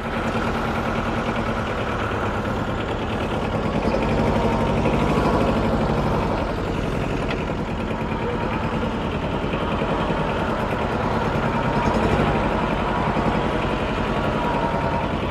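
A tractor engine runs steadily at a low, droning rumble in a field during endive planting, close and continuous with little change in pitch or loudness.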